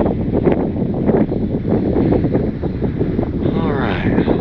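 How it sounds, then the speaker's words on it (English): Strong gusts buffet a GoPro microphone outdoors while flying an RC bush plane, in heavy, continuous low rumbling, with a voice faintly heard beneath the roar. "It is so windy right now."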